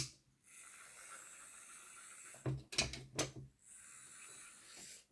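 A Hornby Ben model locomotive, a small 0-4-0 tank engine, runs on a test track with a faint, thin motor whir that rises and falls, broken midway by a few soft clicks and rattles.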